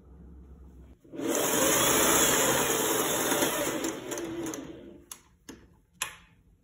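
Sewing machine stitching neck piping onto a shirt, a loud continuous whirring run of several seconds that stops, followed by a few sharp clicks and taps.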